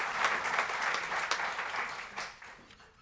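An indoor audience at a talk on hiring claps together in a dense burst of applause that slowly thins and fades over a few seconds.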